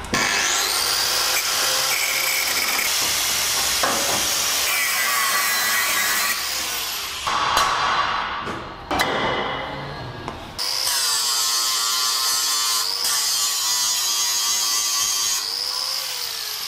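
Steel suspension arms on a Honda K20 VTEC sleeper project car being cut off with a power tool, a loud continuous grating cut with brief pauses and shifts in pitch, no talking.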